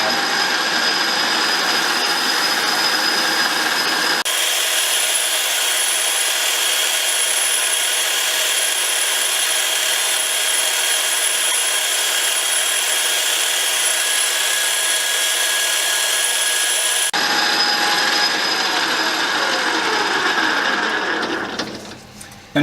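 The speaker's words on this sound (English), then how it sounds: "I'm going to set the mill to spin at 900 RPM. I'll take the Scotch-Brite pad" A milling machine spindle turns at 900 RPM while a Scotch-Brite pad polishes a small stainless part. A steady, loud mechanical whir and hiss runs through most of the stretch, then winds down and fades at the end.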